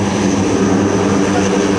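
A 150,000-pound military transport aircraft at an air national guard open house and airshow revs its engines for an assault takeoff: a loud, continuous, close roar with a steady propeller hum, with no talk.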